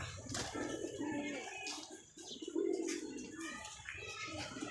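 Domestic pigeons coo repeatedly in soft, rolling phrases close by, the calls overlapping steadily with no talking.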